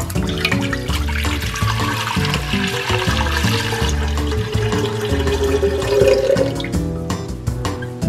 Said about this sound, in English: I have an enormous pot ready for us and we're going to add six cups of water